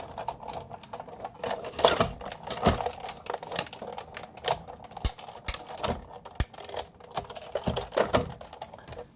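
A die cutting machine runs paper through its rollers, giving a steady stream of close, dense clicking and crinkling with no talk.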